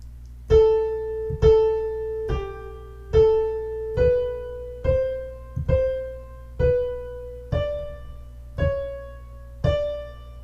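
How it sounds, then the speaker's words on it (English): A two-voice counterpoint exercise line plays as a slow series of about ten sustained organ-like notes, each starting with a sharp attack and fading, moving stepwise with a steady low drone beneath. "let's play his counterpoint line really quick"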